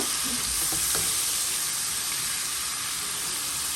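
Shrimp fry with turmeric powder in a hot pan, a loud, even sizzle that runs unbroken from start to finish, with faint stirring knocks near the beginning.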